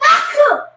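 A single sharp sneeze from one person, loud and close, lasting under a second with no other sound around it.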